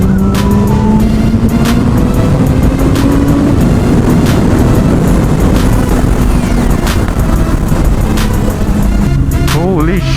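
A Kawasaki ZX14R sport bike revs hard during a full-throttle acceleration run on an expressway, its engine note rising in repeated sweeps through gear changes, loud and close over steady wind roar.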